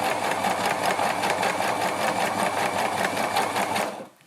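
A home sewing machine stitching fabric, running in a steady rapid mechanical whir with fast regular needle pulses, close and loud, then winding down and stopping at the end.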